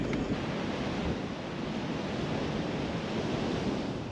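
Ocean waves wash steadily onto a beach on the southern coast of Western Australia, a continuous broadband roar of surf with wind buffeting the microphone, close and fairly loud throughout, no voices.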